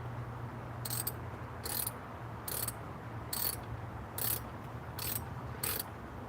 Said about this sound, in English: we'll like try to tighten these bolts a little bit more here